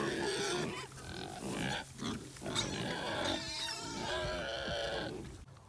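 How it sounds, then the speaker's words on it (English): Kune Kune pig, a short-snouted breed, grunting and snuffling steadily close by on open land being cleared, with a continuous run of low, rough grunts and squeals. "but he is a beautiful pig"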